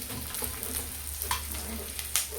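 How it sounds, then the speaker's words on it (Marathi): Oil crackles and sizzles steadily at close range as edible gum resin fries, with a few sharper pops and light clinks over a constant hiss. "अशा प्रकारे हे डिंक जे आहे ते मी तेलामध्ये तळून घेणार आहे"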